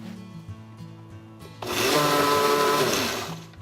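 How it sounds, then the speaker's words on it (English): A blender whirs loudly through mango puree with a squeeze of lime, starting abruptly after a quiet moment and running steadily near the mic before tapering slightly at the end. "Okay, I'm going to blend that again."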